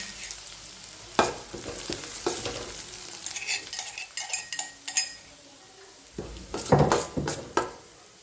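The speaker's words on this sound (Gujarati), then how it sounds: "મેં 8-10 સિંગદાણા, 1-2 લીલું મરચું અને તલ એડ કરે છે" Peanuts, green chili and sesame seeds hit hot masala in a pan for farali handvo, giving a close, crackling sizzle with sharp spoon scrapes and clinks against the pan, louder bursts near the end.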